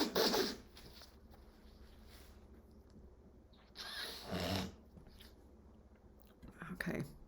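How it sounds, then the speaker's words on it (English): A woman blows her nose at close range, with a sharp burst at the start, another longer blast around the middle and a final short one, between quiet stretches. "I have to blow my nose"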